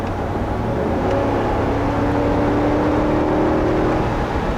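Steady drone of a 2020 Ford F-250 Super Duty pickup with the 7.3-liter gas V8 cruising on the road, a continuous low engine hum with tire and wind noise, no talking.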